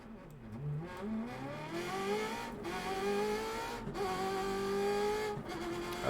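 A Subaru rally car fitted with a Ferrari engine drives hard, its high engine note rising and falling through gear changes with brief tire squeal, sustained and fairly close with no talking.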